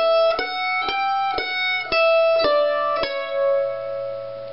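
Mandolin picking the opening phrase of the fiddle tune Old Joe Clark, six bright plucked notes ringing out in a steady, moderate rhythm, close and clear with no talking.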